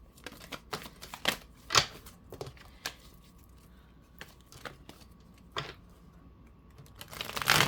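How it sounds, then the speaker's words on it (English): Quick riffling clicks of tarot cards being shuffled, in short irregular bursts with pauses, close by and fairly quiet, with no talking. "I'm going to shuffle this"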